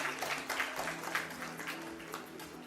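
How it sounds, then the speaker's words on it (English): Audience applause welcoming a speaker at a stroke-care medical panel, dense rhythmic clapping from many hands mixed with a steady hum, continuing evenly throughout. "Let's welcome our speaker with a huge round of applause."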